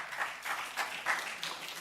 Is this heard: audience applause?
yes